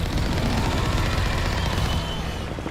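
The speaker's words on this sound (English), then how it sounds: "Please let me shoot my gun" Gunfire from the player's weapon in the sci-fi video game Mass Effect, a dense continuous rattle of rapid shots that stays loud for most of the moment before easing slightly near the end.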